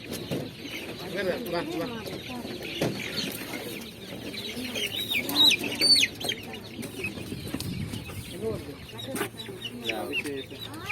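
Chickens cluck repeatedly at a poultry livelihood aid handout in Mullaitivu, with scattered close clucks and squawks over people talking in the background.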